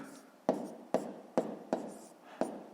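A pen writes numbers by hand on paper during a fifth-grade maths exercise, five sharp scratchy strokes spaced roughly half a second apart, close and fairly quiet.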